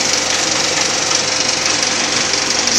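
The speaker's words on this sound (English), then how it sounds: "You can see the mechanism whirring away." The mechanism of a Victoria 5 cinema film projector whirs and chatters steadily at close range, a loud, dense, continuous mechanical clatter with no voices.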